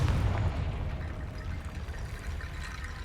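A Confringo fire spell bursts in Hogwarts Legacy as a loud, rumbling blast whose roar fades over a few seconds, with no talking.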